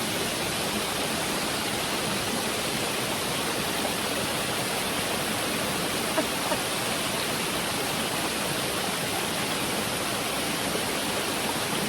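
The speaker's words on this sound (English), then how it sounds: "It's like all these little mini waterfalls within this." Hardcore Cascades on the Appalachian Trail, a series of small waterfalls, makes a constant close rushing roar of falling water that stays level and unbroken throughout, with no voices.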